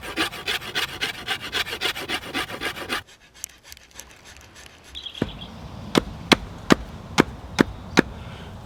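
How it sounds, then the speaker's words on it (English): A rasp works green, wet ash wood while shaping a longbow: rhythmic rough scraping strokes close up, then a pause and a series of sharp, evenly spaced knocks. "I'm going to use a rasp to start forming the profile in this direction."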